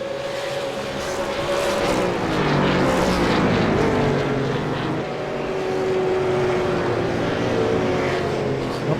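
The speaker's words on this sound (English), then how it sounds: "Phil Sell just a little bit of a slide there mid-corner." A V8 Supercars race car at Circuit de Spa-Francorchamps roars past mid-corner in a slide, its engine note rising and falling through the bend, loud and continuous with faint commentary underneath.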